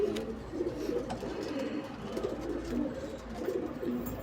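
A male pigeon at home gives repeated soft, low cooing phrases in a steady rhythm, close by and with no talk over it.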